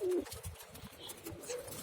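Pigeons coo in low, throaty pulses near baby pigeons at a feeding spot, the soft burbling notes repeating in a close, uneven rhythm after a brief higher tone at the start.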